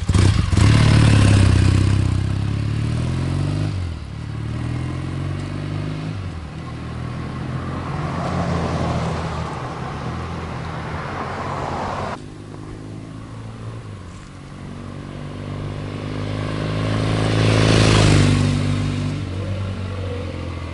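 A 1974 Triumph T140V Bonneville motorcycle engine, stock original, idles with a steady, throaty rumble, revving up a couple of times, close by with no talking.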